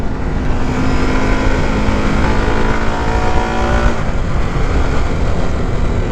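A 2021 Harley-Davidson Pan America Special motorcycle accelerates hard in sport mode while being ridden, its engine note climbing steadily under heavy wind roar, then shifting to a new pitch partway through.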